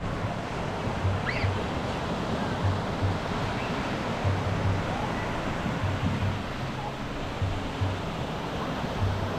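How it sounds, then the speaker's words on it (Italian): Ocean surf on a beach at Cumuruxatiba, Brazil, a fairly calm sea giving a continuous wash of breaking waves with soft low rumbles, mixed with wind, and no talking. "L'oceano in realtà non è molto agitato."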